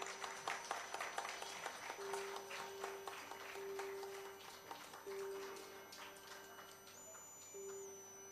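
Audience clapping at a Kathak rangapravesh dance debut, steady scattered claps over a sustained drone and faint tones, fairly quiet and distant throughout.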